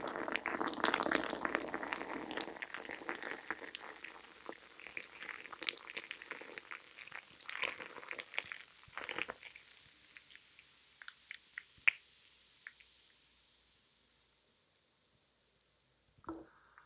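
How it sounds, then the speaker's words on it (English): A freshly poured drink froths and fizzes in a glass, starting as a dense crackling fizz and thinning out into sparse pops and faint bubbling, with a few sharp clicks near the end. "the pour ASMR was pretty darn good"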